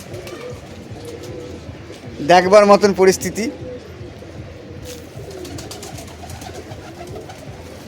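A flock of pigeons coos steadily at feeding time, a soft murmuring bed throughout, while someone speaks briefly close by in the middle.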